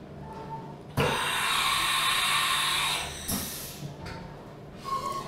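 Haas MiniMill2 CNC mill starting its machining program, a loud steady hiss-like whir lasting a couple of seconds, then a brief drop and another burst of machine noise with shorter pulses after.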